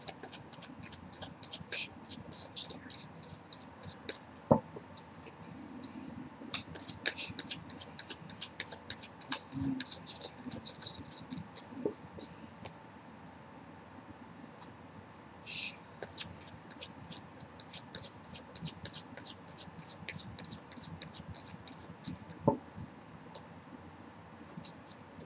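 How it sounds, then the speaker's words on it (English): Tarot cards shuffled by hand, a long run of soft, rapid papery flicks and riffles that come in bursts and stay fairly faint and close, with low background hum. "I'm going to shuffle them a little more"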